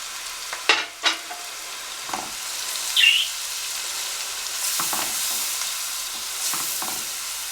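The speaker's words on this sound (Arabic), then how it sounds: "يا دوب بس نشوح البصله بسيط، بس مش عايزاها تاخد لون ولا حاجه" Onion gently sautéing in a pan, kept pale without browning, gives a steady soft sizzle with a few louder stirring scrapes and clicks near the start and around the middle.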